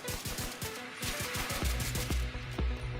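SMG fire in The Division 2, a rapid run of sharp gunshots emptying a magazine, loud and close, with a steadier burst rhythm building in the second half.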